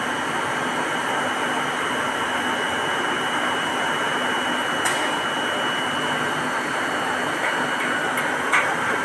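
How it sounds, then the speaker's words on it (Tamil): A motor-driven cement grinding mill runs continuously at a cement plant, a loud, steady industrial roar and whine with no breaks and only faint occasional clicks. "இந்த மோட்ரு மூலயமா தான் இந்த மில் சொல்லக்கூடிய அரைக்கும் இயந்திரம் ஃபுல்லாகவே வேலை செய்யுது"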